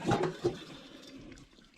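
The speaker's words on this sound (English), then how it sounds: "Oh yeah, it's bubbling." A pan of potatoes and cheese bubbling on a stove: a few soft, close bubbling pops at the start, then settling into a faint, fading simmer.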